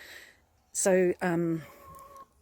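Backyard chickens cluck in two loud, close bursts, with faint softer calls afterward; someone speaks briefly at the start.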